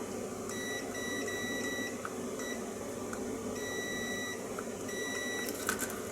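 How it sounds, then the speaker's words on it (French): An electrical continuity tester beeps repeatedly during wiring work: a series of short, fairly faint electronic tones in bursts, over a constant background hum. "Ah, là ça bip."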